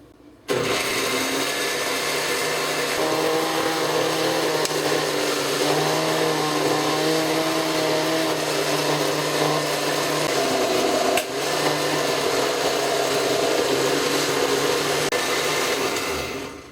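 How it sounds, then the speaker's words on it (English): A blender whirs loudly and continuously through onions and cilantro, a steady motor drone with a brief dip in the middle before it carries on until it stops at the end. "The onions are in the blender."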